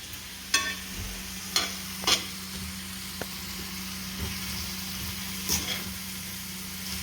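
Shrimp and chorizo fry in a pan with a steady, soft sizzle, broken by a few sharp clacks of a utensil stirring against the pan. No one speaks.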